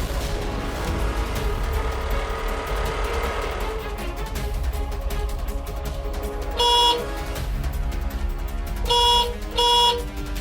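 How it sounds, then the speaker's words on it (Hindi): A steady traffic hum fills the background, then a car horn honks in a short blast followed by two more quick toots. "ये हॉर्न कौन बजा रहा है?"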